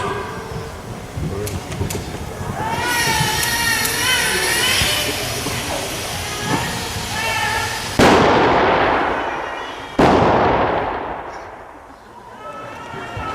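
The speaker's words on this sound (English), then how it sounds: "So these are 2-inch carbide cannons." Two loud, sharp blasts from 2-inch carbide cannons at a chemistry demonstration, several seconds apart, each with a broad booming crack and a ringing decay, over background crowd chatter and noise.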